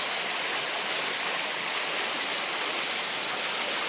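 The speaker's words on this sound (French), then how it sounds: "il y a la rivière qui arrive" River water rushing steadily past a small garden near Gallo-Roman ruins at Champlieu, a broad, dense, continuous hiss at close range with no let-up and no voices.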